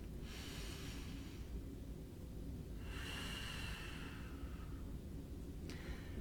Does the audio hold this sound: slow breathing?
yes